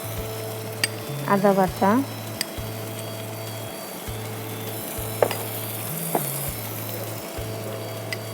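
Onion paste sizzles in a pan for a Bengali rui fish and peas dish, with a spoon scraping and stirring through it in short bursts over a steady electrical hum, and a brief spoken phrase partway through.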